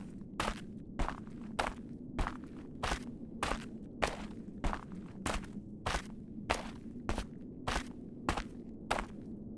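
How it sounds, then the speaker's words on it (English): Loud footsteps from the horror game Onryo land in a steady, even rhythm of about sixteen sharp thuds, close and prominent over a low droning background, with no talk. "Why are my footsteps so loud?"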